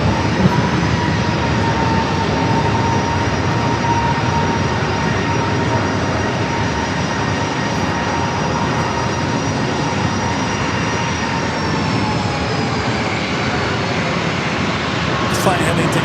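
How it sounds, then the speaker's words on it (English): A Southwest Boeing 737-800 jet bound for Indianapolis roars loudly and steadily at an airport, the engine whine holding a high sustained tone that dips slightly near the end. "737-800 with Southwest."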